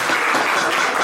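Comedy club audience applause at the Eastville Comedy Club, a short burst of loud, dense clapping that stays even throughout with no talk over it.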